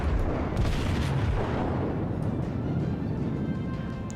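Kongo battleship guns boom in the World of Warships video game, a dense, rumbling barrage of heavy naval gunfire that holds at a steady loud level throughout.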